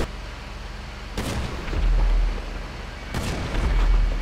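Tank cannon fire in the video game GTA Online: two heavy booming blasts a couple of seconds apart, each followed by a rumbling low-end roll, loud and close with steady background noise between.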